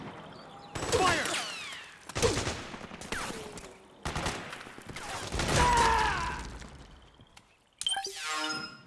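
Gunfire in the video game Metal Gear Solid 4, loud bursts of rifle and machine-gun fire in several separate volleys with brief gaps between them, close and sharp.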